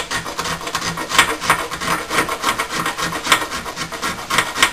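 A scraper rasps steadily along a magnesium fire starter block, shaving off dust in a continuous, close, loud rubbing scrape with repeated strokes and no talk.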